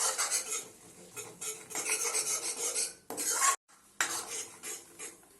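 Gram flour (besan) roasting in a pan while a spoon stirs it continuously, making rapid, raspy scraping strokes close up, with a brief pause near the end before the stirring resumes.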